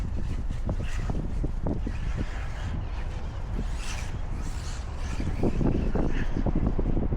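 Wind gusts buffet the microphone outdoors during an RC car run, giving a loud, continuous low rumble with swelling gusts and faint rustling, and no talk.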